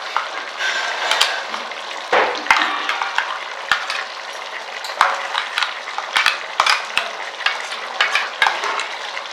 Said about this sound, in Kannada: ಇವಾಗ ರುಬ್ಕೊಂಡಿರೋದು ಪೇಸ್ಟನ್ನು ಹಾಕ್ತಾಯಿದ್ದೀನಿ.